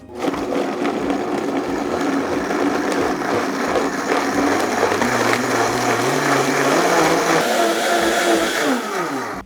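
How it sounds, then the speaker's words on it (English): A blender purées guajillo chili sauce with cumin and oregano on high speed, a loud, steady motor whir with churning liquid that holds throughout and shifts pitch slightly as the mixture smooths. "Then we're going to blend this on high speed."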